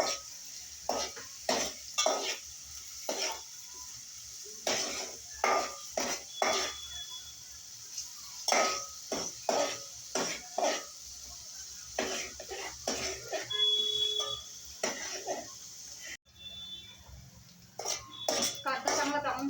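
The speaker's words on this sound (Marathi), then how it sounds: "कांदा मिक्स करून घेऊया. आणि कांदा आपण ब्राऊन होईपर्यंत भाजूया." Onion fries in a pan as a spoon stirs it, producing repeated sharp scraping and clinking strokes in an irregular rhythm over a soft, steady sizzle.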